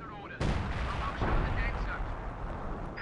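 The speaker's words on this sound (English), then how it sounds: "Mortars are firing smoke to cover vehicles in need of crew repairs. Smoke shells being fired now." Mortars in Company of Heroes 2 fire smoke shells: a sudden loud blast, then rumbling booms and battle din continue under the mix with scattered voice-like bursts.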